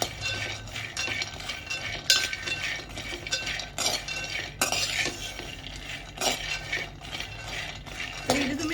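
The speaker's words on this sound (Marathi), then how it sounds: "त्याच्यात आपण आता हे शेंगदाणे घेतलेत ना हे शेंगदाणे असे चांगले खमंग भाजून घेऊया" Peanuts being dry-roasted in a pot over a medium flame, a metal spoon scraping and stirring with repeated clinks and rattles of nuts against the pot in an uneven rhythm.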